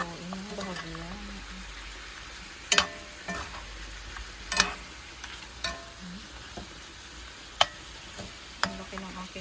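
Pork ribs caldereta is stirred in a pot, with a soft steady sizzle under occasional clanks of a spoon against the pot. A voice speaks briefly near the start.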